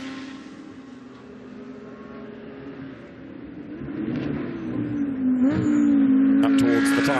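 GT2 race cars lapping the Paul Ricard circuit during a GT2 European Series race, a steady engine drone that swells as cars approach, with a rising, sustained engine note near the end.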